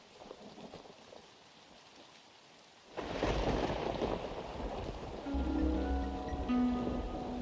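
A gathering thunderstorm in the game Sword & Sworcery: after a quiet, sparse opening, a rumble of thunder breaks in with steady rain, and a tonal drone rises beneath the downpour.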